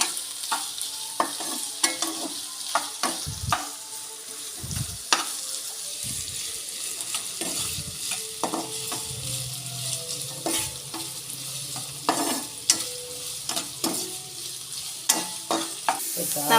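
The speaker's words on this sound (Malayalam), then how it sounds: "കൂർക്ക നമുക്ക് നന്നായിട്ട് ഇളക്കി കൊടുക്കാം" Koorka (Chinese potato) stir-fry being stirred in a pan: repeated close spatula scrapes and clanks over a steady sizzle, irregular in rhythm, with no talking.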